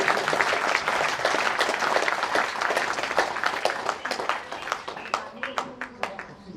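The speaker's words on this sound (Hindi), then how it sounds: "जोरदार तालियों से हमारे योग गुरुदेव का हम स्वागत करें" A crowd claps enthusiastically, loud and dense at first, then thinning to scattered individual claps near the end.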